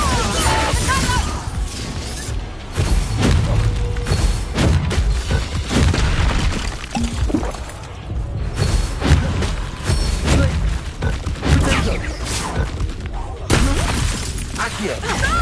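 Spell effects from the Hogwarts Legacy video game, Accio, Confringo and Glacius, crash and burst in a dense, continuous run of booms, shattering impacts and thuds through a loud combat sequence, with voices sounding now and then.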